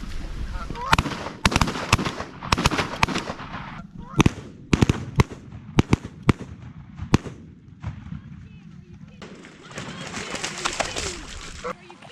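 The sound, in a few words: shotgun shots during a bird hunt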